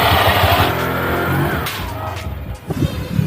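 A Honda Click scooter fitted with a titanium CVT set accelerates close by, its engine rising into a loud, buzzing roar that briefly settles and then picks up again over a few seconds.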